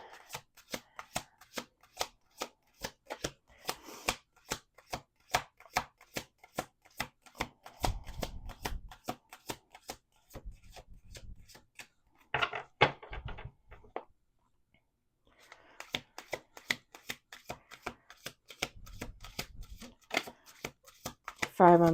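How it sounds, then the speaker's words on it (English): Tarot cards are shuffled over and over in quick, crisp riffling bursts, close up, with a short quiet gap and soft voices talking at times. "We're gonna do 2 more shuffles."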